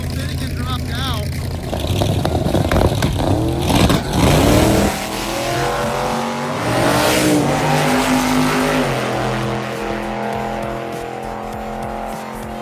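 Gasser drag race car engine roaring loudly at a drag racing event, with steady revving, rising and falling engine tones and a brief squeal of tires, under a commentator talking over the track noise.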